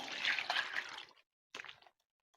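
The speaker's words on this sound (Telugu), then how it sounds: "ఒక చెంబు వాటర్ అయితే పోస్తానండి నేను" A pot of water is poured over pieces of goat lung with turmeric and salt in a village kitchen, a close gushing splash lasting about a second, then a second shorter pour.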